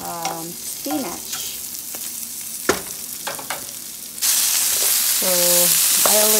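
Okra, green beans, squash and spinach cook together in a pan, giving a soft sizzle and scraping stir noises that swell into a louder steady frying hiss, with a voice speaking briefly over it.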